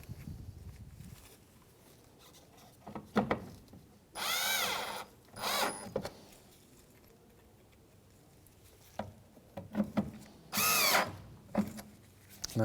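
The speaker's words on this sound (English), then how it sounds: "we're going to take our 2 Phillips screws and put them back in" Power driver running two Phillips screws back into a 2007-2013 Mitsubishi Outlander left tail light, short whirring bursts separated by handling clicks and pauses, close and fairly quiet, no talk.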